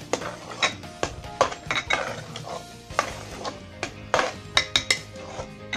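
A spoon stirs and scrapes khichdi with garam masala around a metal pot in repeated strokes, with clinks against the sides, close and fairly loud.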